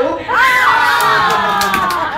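Children at a fifth birthday party cheering during a pass-the-balloon game, with loud high-pitched shouts and excited squeals overlapping continuously throughout.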